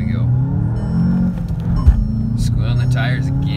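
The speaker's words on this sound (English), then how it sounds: "Squealing the tires again." A 2020 VW Jetta GLI 35th Anniversary pulls away hard, its engine rumbling steadily with brief tire squeals, close by, while someone talks over it.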